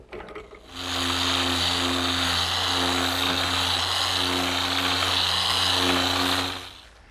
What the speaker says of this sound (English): give it a nice smooth sanding